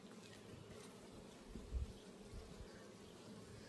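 Honeybees swarming around a beekeeper working a hive, a dense close buzz with a brief louder pass as one flies right by, otherwise steady and low-level.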